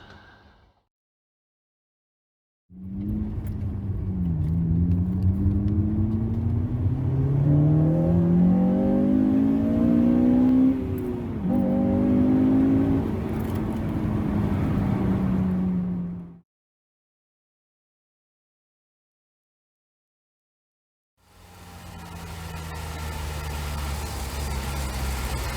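A Honda Civic Type R Mk8 FN2 with a homemade cold air intake revs loudly, its pitch climbing and falling in repeated sweeps. A silent gap follows before the engine rises again near the end, with no talking.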